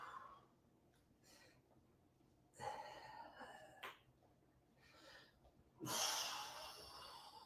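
Heavy, effortful breathing during a 40-second set of push-ups in a full-body home workout: a few loud gasping breaths and snorts come in bursts, separated by quieter pauses, close to the microphone.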